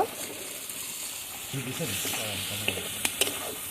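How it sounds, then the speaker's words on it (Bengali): Chopped tomato frying in oil-released spice masala for a rohu fish head ghonto gives a steady, close sizzle with stirring, and a voice briefly talks over it midway. "টমেটোটা এখন খুব ভালোভাবে কষিয়ে নেব।"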